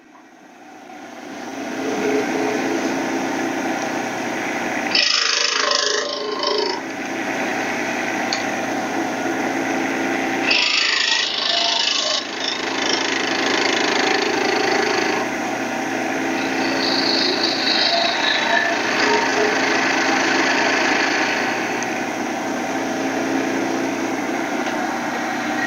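Bowl gouge, 3/8 inch, cutting waste wood at the end of a spinning bottle stopper on a lathe: a steady, loud, continuous whine and scrape that runs throughout, with brief quieter gaps where the tool lifts off.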